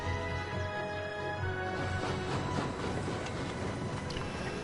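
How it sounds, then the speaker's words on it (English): A steady rumbling clatter comes from a train rolling past in the World of Final Fantasy video game, with a continuous rail noise and faint rhythmic clicking throughout. "Oh, there's trains."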